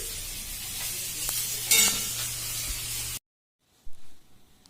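Curry of tangra fish and elephant yam cooking in a pan, with a steady close frying hiss and sizzle and a few stirring scrapes before it cuts to near silence.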